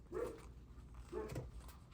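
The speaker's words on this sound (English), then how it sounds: "Sorry for the dog." A dog barks twice in the background, a pair of short, muffled woofs about a second apart, faint and somewhat distant in a quiet indoor room.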